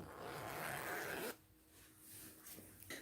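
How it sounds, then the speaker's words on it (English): A zipper on a pair of trousers being sewn is pulled open in one loud continuous rasp lasting over a second, then a quiet room with faint handling noises and a small click at the end. "Then we open up the zipper."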